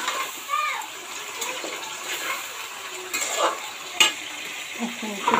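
Half a kilo of marinated meat sautéed and stirred in a pan, with soft sizzling under scraping and clinking stirring strokes; a few sharp knocks stand out, and a voice talks intermittently in the background.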